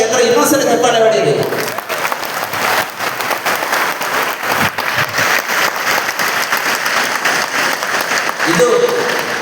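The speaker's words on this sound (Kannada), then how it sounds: "ಅವರ ಪಾದಯಾತ್ರೆಗೆ ಎಲ್ಲರೂ ಇನ್ನೊಂದ್ಸಲ ಚಪ್ಪಾಳೆ ಹೊಡೀರಿ." An audience at an interfaith gathering at Dharmasthala applauds a padayatra walker: a loud, sustained burst of many hands clapping, with a voice briefly heard at the start and again at the end.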